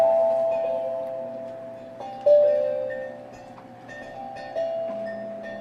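Organ-like tones from a phone app, imagined as a crab organ, a few sustained wavering notes changing pitch every second or two, soft and thin, with no speech.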